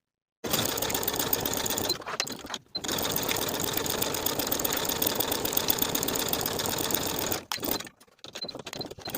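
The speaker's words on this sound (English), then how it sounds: "Sew the outer curved edge with a 1/2-inch seam allowance." A sewing machine running fast along the outer curved edge of a lined coat collar, a loud close whirring hum in two long bursts with brief pauses between them.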